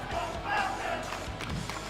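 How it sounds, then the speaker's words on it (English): An arena crowd at an esports event, a Rainbow Six major tournament in Munich, rises in a distant, diffuse chant and roar, fairly faint and blended with hall ambience. "Crowd's a little early on the chant."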